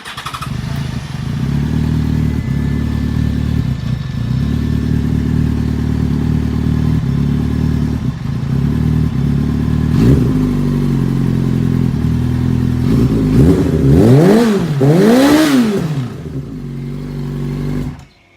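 A 2005 Yamaha R6 motorcycle engine idles loud and close after a hot restart, with a cooling fan running and some rattle, then blips the throttle in a few quick revs before shutting off.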